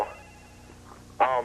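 A telephone rings in a single clear burst near the end, loud and close, following a quieter stretch with faint voices in the background.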